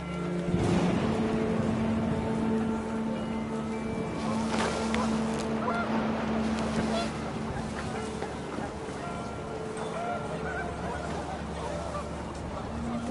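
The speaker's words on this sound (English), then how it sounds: "The wind picked up, and panicked geese appeared and quickly went." Geese honk in a noisy outdoor scene with heavy wind rumble, their calls rising over the gusts.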